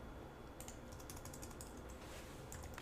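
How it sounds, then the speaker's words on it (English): Keys clattering on a computer keyboard as a line of Visual Basic event-handler code is typed, a quick irregular run of soft clicks over a faint steady background hum, close and fairly quiet. "I'm going to type in private sub button 3 click."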